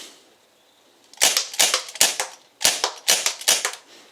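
A CO2-powered revolver fires rapid, sharp snapping shots at a target in two quick bursts, each crack close and crisp with a light impact following.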